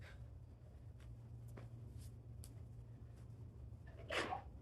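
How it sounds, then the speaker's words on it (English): A person sneezes once near the end, a sharp bright burst rising out of steady low background hum and faint shuffling at an animal enclosure after an injection. "And I need to sneeze."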